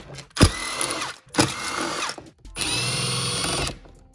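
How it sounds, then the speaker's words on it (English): Power tool spinning out bolts on a Tesla Model 3 or Y front trunk, three separate whirring bursts close by with short pauses between, the last one longest. "We could do this by hand or we could use power tools."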